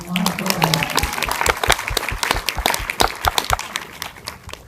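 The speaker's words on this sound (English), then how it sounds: "Give her a round of applause." Audience applause for a guest joining a women-in-film panel after a movie screening, steady dense clapping throughout with a voice speaking briefly at the start.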